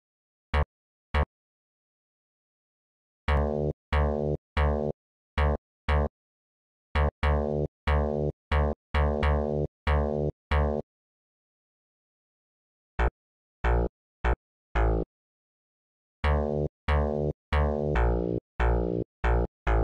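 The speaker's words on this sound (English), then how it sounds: "So this should start sounding like a simple bass line." Simple synth bass line built in FL Studio: short, punchy plucked bass notes in bursts and runs with silent gaps between phrases, played alone and fairly quiet.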